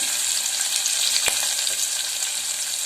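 Onions and curry leaves fry in hot oil with a steady, loud, hissing sizzle and one sharp crackle partway through, no voices.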